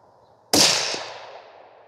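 A single sharp rifle shot fired during a seating depth ladder test at a range, loud and close, with a sudden crack followed by a long fading echo.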